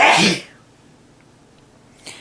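A woman with allergies and asthma lets out one loud, sharp sneeze at the start. Near-silence follows, then a brief faint rustle at the end.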